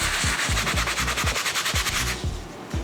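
A medium bristle brush scrubs inside a Travis Scott Jordan 1 Low sneaker in rapid, rhythmic back-and-forth strokes, close and loud, with no talking.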